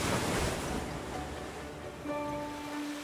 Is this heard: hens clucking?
no